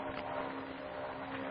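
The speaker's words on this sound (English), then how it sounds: "That's a plane. Do you hear it?" Steady droning propeller airplane engine from an old-time radio drama, a continuous hum with a strong low tone holding at even loudness throughout, no voices over it.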